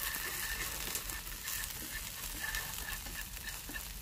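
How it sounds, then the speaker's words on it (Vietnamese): King oyster mushrooms with chili sizzle steadily in a hot pan as they are stir-fried for a vegetarian dish, a close, even crackle and hiss with soft stirring scrapes and no talking. "Rồi chúng ta xào đều lên."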